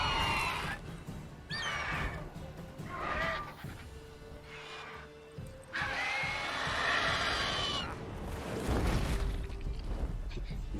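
A horse in The Witcher 3 gives repeated shrill whinnies and snorts amid loud, dense game noise and rumble, fairly near and continuous over about eleven seconds.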